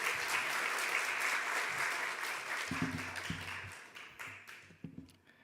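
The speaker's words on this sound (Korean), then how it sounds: "박수로 환영해 주십시오." A church audience applauds in welcome, a full burst of clapping that gradually thins and fades, with scattered last claps, a few voices and some low murmuring emerging underneath as it dies down.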